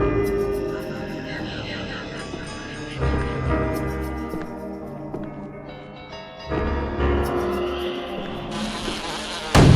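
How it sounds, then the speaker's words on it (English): Bees swarm in the Resident Evil The Umbrella Chronicles video game, a dense insect buzzing that rises and falls over game music and effects, with sudden louder bursts partway through and at the end. "Bees! Look out!"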